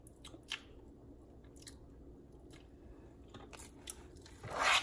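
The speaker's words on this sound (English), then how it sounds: "I'm just going to stop and I'm going to taste it and see." Close chewing of a spinach and cheese stuffed-shell filling: soft, wet mouth sounds and a few crisp clicks, quiet and intermittent, ending in a louder burst, with no talk.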